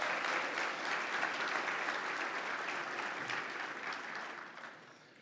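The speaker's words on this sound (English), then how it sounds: "Can we please get another round of applause for our local board President Cup winners for 2021?" Applause fills a conference general session as local board President Cup winners for 2021 are honored; broad, even clapping from a large crowd holds steady, then gradually tapers off near the end.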